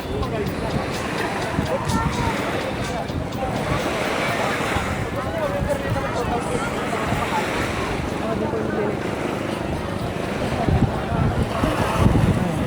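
Steady wind and lapping water at Masasa Beach, Tingloy Island, Batangas, Philippines, with low engine rumble from nearby bangka boats, continuous throughout.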